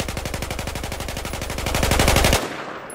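A rifle fitted with a heavy barrel fires a rapid automatic burst in Battlefield 4, about two and a half seconds of evenly spaced sharp shots that stop abruptly, leaving a brief fading tail.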